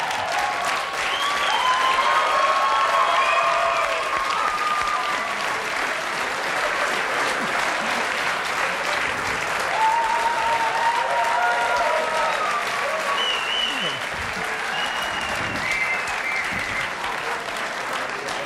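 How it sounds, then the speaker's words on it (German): Studio audience at a Bavarian comedy show applauding the entrance of a fashion-designer character, steady dense clapping throughout, with cheers and whistles rising above it. "Einen ganz besonders herzlichen Applaus für den einzigartigen Modezar von Mindelstetten"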